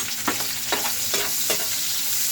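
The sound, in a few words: sautéing garlic and onions in a pan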